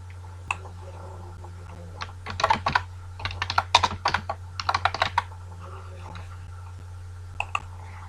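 Typing Python code on a computer keyboard in an online compiler, clustered bursts of crisp key clicks with short pauses between, close and clear over a low steady hum.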